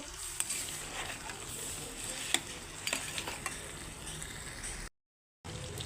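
Potatoes and boiled eggs being stirred into curry masala in a pan for egg curry: a soft, steady frying hiss with scattered spatula clicks and taps, briefly cutting out near the end.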